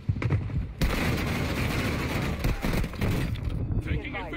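Rapid gunfire in the video game Warzone 2, dense continuous close shooting with impacts, under faint in-game voices.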